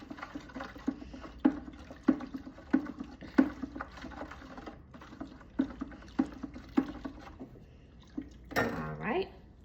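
Homemade laundry soap mixture being stirred in a container, a series of soft rhythmic sloshing knocks against the sides, quiet and close, ending with a louder splashy swirl.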